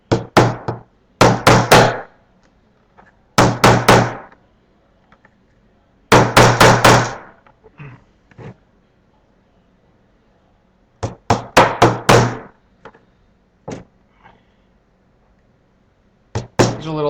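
Sharp hammer taps driving push pins come in quick bursts of three or four, with pauses between groups, close and loud against a quiet room.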